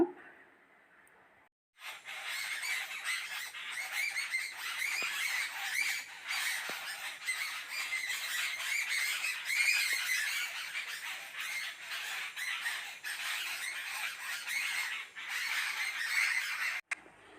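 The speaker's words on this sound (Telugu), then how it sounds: "బర్డ్స్ ఎంత మంచి సౌండ్ చేస్తున్నాయో" A dense, continuous chorus of birds calling near a house outdoors, many overlapping squawks and chirps at a steady, fairly loud level after a short quiet start, with no talking.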